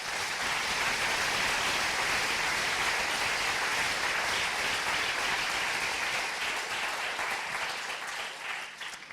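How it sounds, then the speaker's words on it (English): An audience applauds after a debate on the existence of God, a dense, sustained roar of clapping that stays loud throughout and tapers slightly at the end. "maybe you can give them a final applause"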